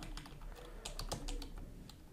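Rapid clicking of keys on a computer keyboard, a quick run of close, light taps typed in an uneven rhythm.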